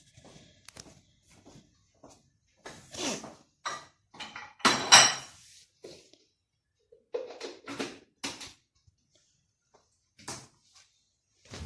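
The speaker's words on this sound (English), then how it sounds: "Now we crush the nuts." Nuts for intsaulsa are crushed by hand in scattered bursts of knocking and grinding, sharp clatters with short pauses between, close by and without speech.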